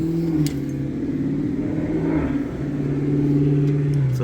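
A turbocharged Duster with headers revs nearby, its engine tone rising and falling in a mid-range drone while voices talk over it.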